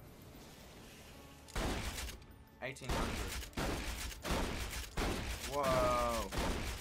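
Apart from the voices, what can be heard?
shotgun firing in video game Borderlands 2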